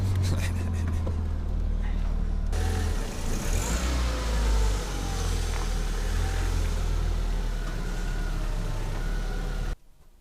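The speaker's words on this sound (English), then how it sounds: "When you press the gas, the noises come up." Engine of a Citroën Xsara with oil-smelling faults, revving up under the throttle: a loud, steady low drone with rising harmonics, held for about ten seconds before cutting off abruptly.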